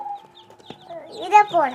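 High, thin chirps and peeps from chicken chicks, close by, with a few short clucking calls rising toward the end.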